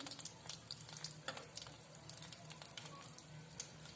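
Balushahi sweets frying slowly on a low flame, a soft steady sizzle with scattered crackles and pops and faint stirring, close but quiet and continuous.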